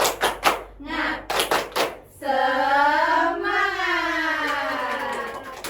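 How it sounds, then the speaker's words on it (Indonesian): Children in a classroom doing a rhythmic spirit clap, a quick run of sharp hand claps followed by a long sustained group chant. "1, 2, 3 tepuk semangat"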